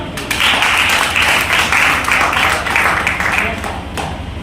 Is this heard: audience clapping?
yes